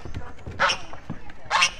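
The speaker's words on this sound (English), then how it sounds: "Okay, the dogs are going to keep playing." Dogs playing on a farm, with two sharp, loud barks about a second apart amid rustling, panting and low grumbling noises.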